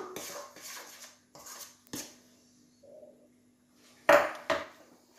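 A spoon stirs crêpe batter in a bowl, with a series of close, light clinks and scrapes in irregular bursts, then louder knocks toward the end against a quiet background.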